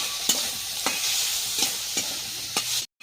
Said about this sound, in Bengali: এই যে চিংড়ি, ভালোভাবে ভেজে নেব।